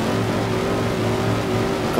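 A Dodge Challenger race car in the video game Race 07 holding revs at a standing start, a loud, steady engine drone with an even pitch throughout, without speech.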